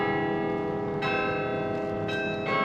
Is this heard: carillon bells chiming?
yes